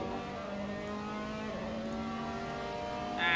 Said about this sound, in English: I'll turn the engine noise down.